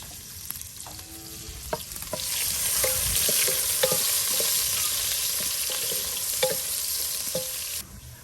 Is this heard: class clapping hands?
no